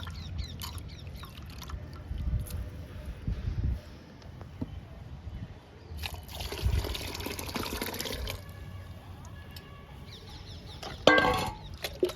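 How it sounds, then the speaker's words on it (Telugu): Liquid is poured into a container of homemade kitchen-waste liquid fertilizer meant for guava and lemon plants, giving splashing, gurgling bursts of moderate loudness over steady outdoor background noise. "ఈ కిచెన్ వేస్ట్ లిక్విడ్లో ఈ పచ్చసొన్న లిక్విడ్ కూడా కలిపేద్దాము"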